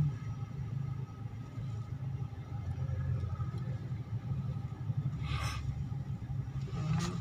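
A car engine hums low and steady as the vehicle climbs a hill during a road trip in Legazpi, a constant near rumble with light road noise and no clear talking.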